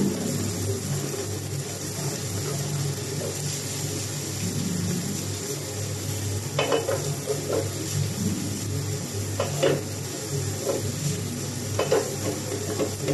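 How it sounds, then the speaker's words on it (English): Rice being stirred and fried in a wok while egg is added, a steady sizzle with soft scraping and occasional spatula clinks against the pan, at a moderate level with no talking. "make sure to constantly mix this while you add the egg."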